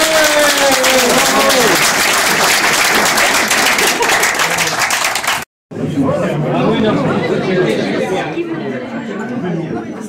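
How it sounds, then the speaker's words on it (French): Dinner guests at a year-end meal clap for the delegate Jean-Pierre, dense applause mixed with lively chatter that breaks off briefly and then resumes with more scattered clapping and voices. "je pense qu'on peut l'applaudir"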